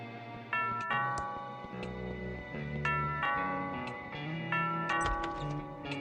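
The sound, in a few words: doorbell ringing in the video game Thimbleweed Park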